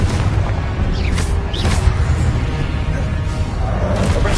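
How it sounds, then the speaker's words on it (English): Confringo fire spell blasts in Hogwarts Legacy on PS5, a loud continuous rumbling boom with deep low-end roar and a few brief bursts layered over sustained explosive noise, no speech. "Confringo."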